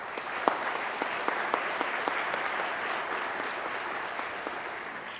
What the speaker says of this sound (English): Would you please give them and leadership a round of applause as well?